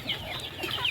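Chickens cluck softly on a farm while small chicks peep in high, brief chirps. The sounds are close but low in level, with no talk.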